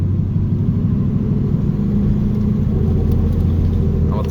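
A 5th-gear LS1 V8 in an F-Body with a T-56 manual and 4.10 gears lugs uphill, a loud, steady low rumble with a deep droning drone running continuously throughout.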